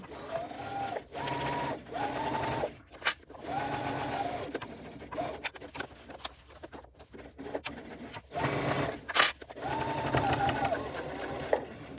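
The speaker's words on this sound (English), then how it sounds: "back stitching at this bottom corner, starting again along the bottom seam" A sewing machine runs in bursts while stitching the lining seams of a bag, back-stitching at a corner and then continuing along the bottom seam; steady close whirring with short pauses between runs.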